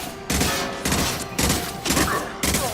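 Automatic gunfire from the Mass Effect 2 video game fires in loud, dense bursts, about five volleys separated by brief pauses, close and harsh with no talk over it.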